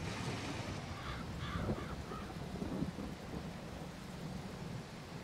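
Rain and thunder in Farming Simulator 22, a constant wash of rainfall with a low thunder rumble. Faint bird caws come through early on.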